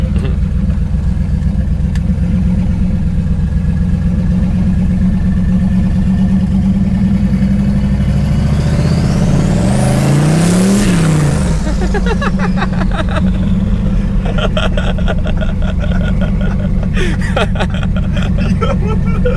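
A four-wheel-drive vehicle grinds and revs through deep sand, engine droning low then surging in a loud rising-and-falling rev as it passes close, with people talking over it.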